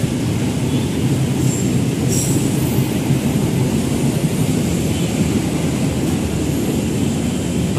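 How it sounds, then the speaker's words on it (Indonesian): The Argo Cirebon passenger train, hauled by a CC206 locomotive, departs a large station on the Gambir–Tegal route, a loud, close, continuous rumble of rolling wagons with faint wheel squeal. "Oke, Argo Cirebon diberangkatkan."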